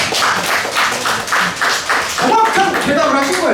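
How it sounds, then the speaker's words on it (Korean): At a youth church service, a group claps in a run of evenly spaced beats for about two seconds, then the claps break into looser, scattered applause as voices rise over them. "박수 한번 칩시다!"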